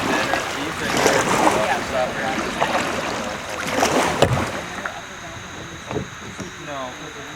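A kayak sets off on the Dowagiac River on a fall day, with paddle splashes and water sloshing against the hull close by, mixed with people talking.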